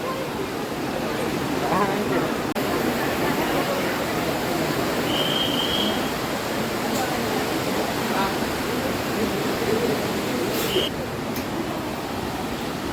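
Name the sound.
flowing water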